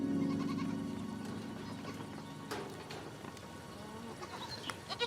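Goats kept by Omani herders in the desert mountains bleat at the start, a wavering cry that fades into quieter rustling and scattered knocks.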